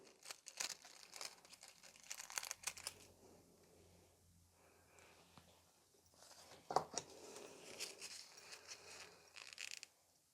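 Transfer foil for gel nail art being pressed and peeled, giving faint, close crinkling and rustling in irregular bursts with a few small taps, very quiet throughout.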